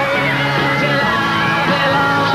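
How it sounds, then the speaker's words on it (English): A dense crowd of fans screams and yells nonstop at an airport as the Beatles arrive by Boeing 707, a loud, continuous wall of shrieking voices. "you can hear the screams in the background"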